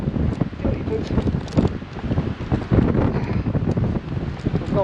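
Strong wind gusting along a mountain ridge, a loud, close rumbling roar of wind on the microphone with rapid buffeting bursts; a voice speaks under it.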